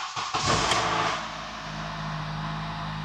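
Engine of a beat-up Honda car cranking and catching, then settling into a steady, fairly loud idle with a low hum, no talking.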